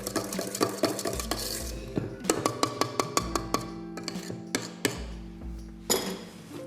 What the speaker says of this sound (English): I'm just gonna run the paddle around the sides just to make sure everything is fully incorporated